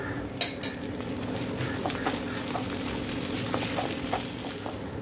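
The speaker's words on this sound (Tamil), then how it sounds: "இதெல்லாம் நல்லா வதக்கியாச்சு" Ashwagandha, coriander, cumin, pepper and curry leaves sauté in a pan. A steady, close sizzle runs throughout, with occasional light scrapes and taps from stirring.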